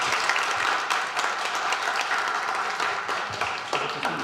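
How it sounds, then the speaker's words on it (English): A breakfast event audience on digital transformation and entrepreneurship applauds after a presentation, with steady dense clapping and a few sharper claps standing out throughout. "Another round of applause for him."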